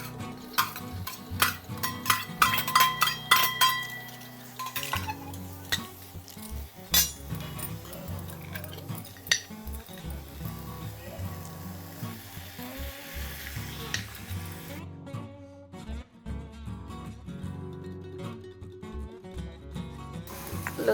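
Spice-paste ingredients for a Goan dish being dry roasted and stirred in a pan, with repeated metallic clinks and scraping of a spoon against the pan, busy at first and then quieter, with a faint sizzle beneath.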